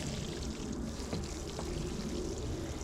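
Water poured from about 3.5 litres into a garden bucket for planting Christmas potatoes in a greenhouse, a steady close splashing pour running alone throughout.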